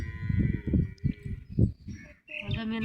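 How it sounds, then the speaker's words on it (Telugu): A calf gives several short bleats, a string of choppy calls heard close with a pause near the end before a final cry. "దూడ కొంచెం మే అంటుంది దూడ."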